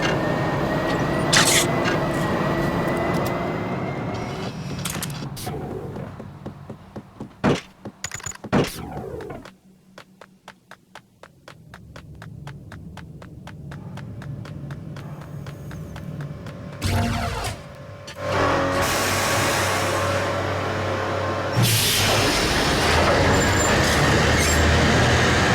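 A train runs in the Max Payne video game, with a rattling, clattering rail rumble, a quieter stretch of sharp clicks, then loud bursts of rushing noise near the end.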